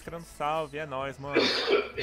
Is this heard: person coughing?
yes